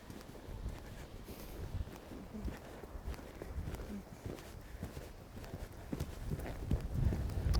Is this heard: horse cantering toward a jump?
yes